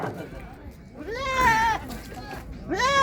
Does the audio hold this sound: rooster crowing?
no